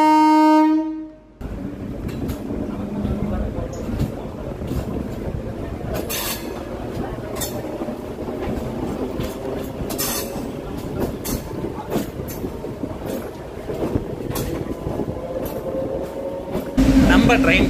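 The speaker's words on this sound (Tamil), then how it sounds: "திரும்ப ட்ரெயின் கரெக்டாக உடுமலைப்பேட்டை ஸ்டேஷன் வந்து பார்த்தீங்கன்னா 10 மினிட்ஸ் ஹால்ட்டுக்கு அப்புறம் பார்த்தீங்கன்னா டிபார்ட் ஆயிடுச்சு" A MEMU express train pulls out of Udumalaipettai station, its steady rumble of wheels and carriages carrying on at close range with repeated clicks and clatters over the rails, then a sudden louder surge near the end.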